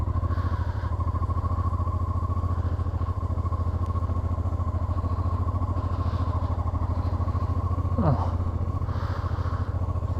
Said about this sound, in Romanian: Uite aici un motociclist cu un BMW F800.